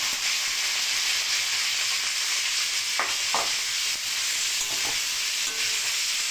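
Tomatoes sautéing in a pan for Kerala tomato chutney give a steady, even sizzle and hiss with a few soft stirring scrapes, close and continuous with no talk.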